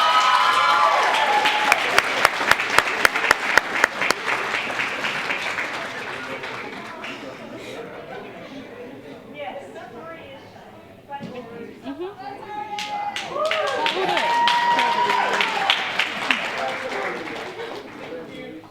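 An awards ceremony audience claps loudly in a dense burst of applause that fades, then picks up again, with voices talking and murmuring in between.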